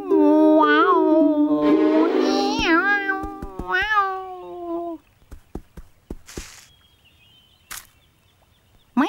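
A cartoon cat from a Postman Pat episode meowing in several long, drawn-out wailing calls up close, followed by quieter taps, rustles and brief knocks.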